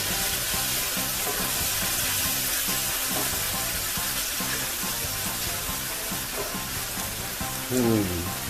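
Pinot Grigio wine splashed into a hot frying pan gives a steady, loud sizzle that fills the whole stretch, with faint stirring and a short voiced murmur near the end.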